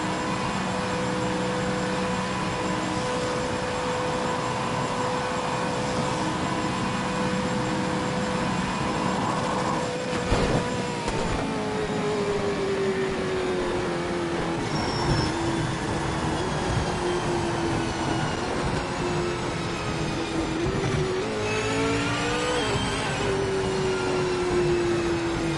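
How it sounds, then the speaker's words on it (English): A V8 Supercar engine howling at top speed of about 300 km/h in the Project Motor Racing game, a continuous loud high drone with steady tonal whine and slowly shifting pitch. "Got to 304 in a V8 supercar."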